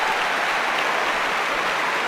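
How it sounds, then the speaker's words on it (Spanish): An audience at a political rally applauds, a dense, even wash of clapping that holds steady throughout without voices rising above it. "la gente aplaude"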